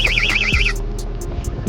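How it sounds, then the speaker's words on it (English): A small electronic bite alarm on a carp fishing line at Bartlett Lake in winter gives a loud, warbling high-pitched tone for under a second, then cuts off, leaving low outdoor background noise and a few faint ticks. "I have these little alarms, and so when the line pulls tight right here, it goes like this."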